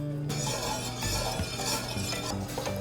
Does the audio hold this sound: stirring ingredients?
yes